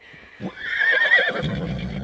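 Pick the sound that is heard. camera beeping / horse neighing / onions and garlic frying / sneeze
horse neighing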